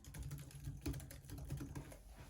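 Quiet, rapid typing on the keyboard of a ten-year-old MacBook Air, with a steady run of soft, close key clicks and a few slightly firmer strikes.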